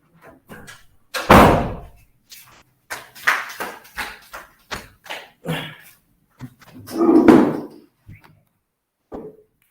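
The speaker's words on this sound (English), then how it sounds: "Let me open the door." A door opened during an online training session, with a scatter of knocks, thumps and a heavier bang or two as the handle and door move, sharp irregular hits nearby in an otherwise quiet room without speech.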